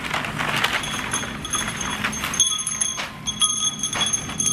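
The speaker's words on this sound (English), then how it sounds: "This wind chime, I thought this was so pretty." A decorative metal wind chime with a cross and a small matching end piece, meant for a patio, rings with several bright, sustained tinkling tones that overlap and linger against a soft background hiss.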